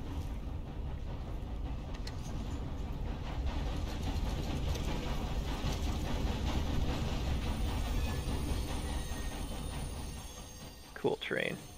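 A train in Red Dead Redemption 2 rumbles past with steady low mechanical roar, loud and continuous, fading toward the end.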